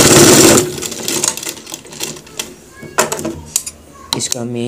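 A sewing machine stitches a chirwa cross pocket on trousers, opening with a loud burst of running and then giving short, uneven mechanical clatters and ticks, with a brief voice near the end.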